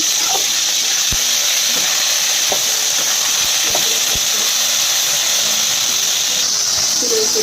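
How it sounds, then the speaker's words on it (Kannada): Water is poured into a ridge gourd chutney mixture, a steady close hiss of flowing water with a few soft knocks and clicks, and no talking. "ನೀರು ಹಾಕೊಳ್ತೀನಿ"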